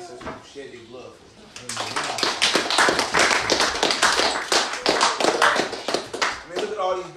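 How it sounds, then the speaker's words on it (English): A gathered audience claps together for a few seconds at a Feast of Dedication gathering, a quick run of sharp, close claps that swells after a quieter spoken start and keeps a brisk uneven rhythm, with voices talking underneath. "I really want us to give a round of applause for our ancestors who shed their blood for"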